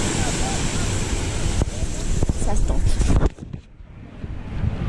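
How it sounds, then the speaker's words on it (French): Ocean waves break and wash along the shore close by, a loud rushing roar with wind buffeting the microphone, dropping off near the end as a person speaks briefly. "il y a des vagues, j'ai peur de me faire emporter par les vagues"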